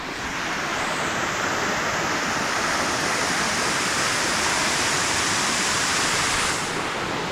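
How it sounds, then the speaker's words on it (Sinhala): Lanka Ella waterfall in Sri Lanka roars as a steady, loud, broadband rush of falling water, constant and close for the whole stretch with no voices. "මෙන්න ලංකා ඇල්ල."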